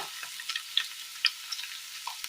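Finely chopped ginger sizzles in hot oil for a Kerala curry, a steady faint frying hiss with scattered small pops and crackles, no voices.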